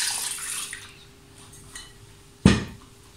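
Water poured into a Thermomix bowl at home, a brief rush of pouring at the start, then quiet with a few faint clinks, ending in a sharp splash or knock near the end.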